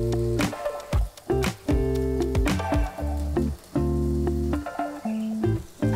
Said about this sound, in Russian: Вторая партия отправляется на сковороду.